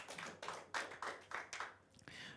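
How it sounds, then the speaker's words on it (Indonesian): A church congregation claps in short, rhythmic bursts, roughly six quick rounds of clapping in a row, faint and somewhat distant in the room. "Tepuk tangan buat Yesus"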